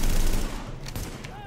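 Dense bursts of gunfire crackle in Tom Clancy's The Division, a rapid fusillade that is loudest at the start and then thins out over a second and a half, with faint speech underneath.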